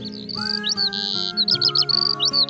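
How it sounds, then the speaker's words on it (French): A nightingale sings nearby in clear, varied phrases of whistles and quick chirps, with short gaps between bursts, alone without other sounds. "Je viens d'entendre un rossignol appeler ses petits pour le repas du soir."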